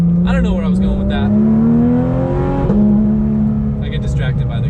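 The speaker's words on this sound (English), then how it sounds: "I get distracted by the exhaust noises." Exhaust note of a Porsche 911 GT3 RS while driving, a steady loud engine drone that rises in pitch as it pulls, with talking over it throughout.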